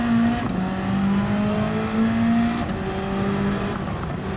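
A Mazda Miata race car in Gran Turismo 7 drones loudly close by, its engine note holding steady and then shifting pitch as it changes gear, with no one talking.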